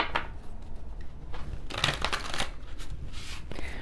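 Mermaid Tarot cards shuffled by hand, a steady run of crisp riffling and sliding bursts close to the mic, alone without talk.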